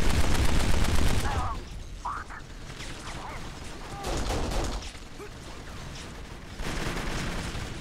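Gunfire fills a dense, loud firefight in the video game Kane & Lynch: Dead Men, with overlapping shots, rumbling impacts and mechanical clatter rising and falling throughout, and a voice briefly audible in the mix.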